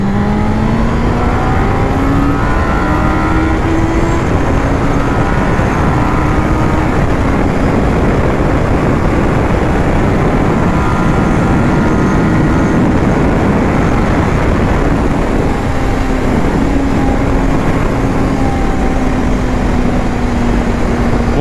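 A 1997 Suzuki GSX-R 600 sport motorcycle accelerating hard, its engine note climbing through the revs loud and continuous, with heavy wind rush over the whole stretch.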